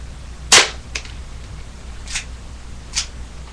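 An airsoft pistol fires a single sharp, loud snap at a target during backyard target practice, followed by two fainter clicks after it, with no talking.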